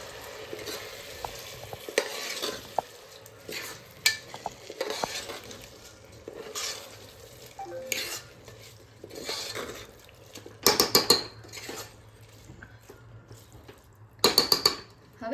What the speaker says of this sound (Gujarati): સોક્ડ રાઈસ અને તેને સારી રીતે મિક્સ કરી લઈએ